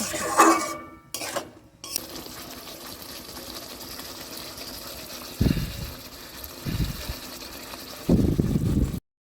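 Intermittent scraping and clattering of a utensil stirring chital fish curry with yogurt in a pan, in short bursts separated by quieter gaps with a faint kitchen background.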